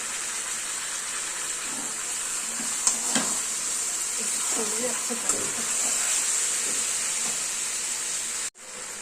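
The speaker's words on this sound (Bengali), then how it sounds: "মাংসটাকে ভালো করে কষাবো" Chicken frying with turmeric and other spices in a pan, a steady close sizzling hiss throughout, with occasional stirring scrapes and a faint voice murmuring partway through.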